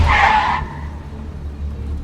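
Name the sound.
car skidding after hard braking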